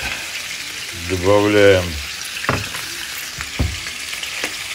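Shrimp fry in a hot pan and make a steady soft sizzle. Partway through, a person says a single word over the frying.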